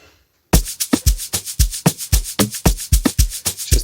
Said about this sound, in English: I'm just going to add a little bit of reverb to some of the perks